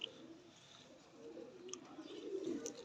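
Lal Pari pigeons coo softly in low, rolling murmurs that swell toward the end, faint and close, with a few small chirps above.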